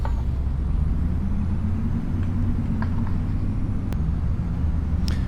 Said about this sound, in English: I'll take the straight truck first, though.